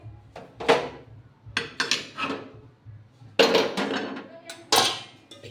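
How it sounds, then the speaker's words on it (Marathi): A knife chops tomatoes and green chillies on a board in a home kitchen, a few sharp, uneven knocks and clacks in short bursts, close and fairly loud with quieter pauses between. "आता टमाटर कट करते आणि हिरव्या मिरच्या कट करायच्या एवढ्या"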